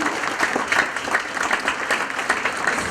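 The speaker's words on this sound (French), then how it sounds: "on peut déjà applaudir tous les enseignants" An audience at a concert in Euville applauds the teachers, a steady dense patter of many hands clapping close and loud throughout, with no talk over it.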